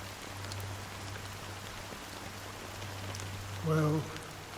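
Soft, steady rain falls as game ambience in Honkai: Star Rail, a faint continuous hiss with a low hum beneath and a short burst of voice near the end.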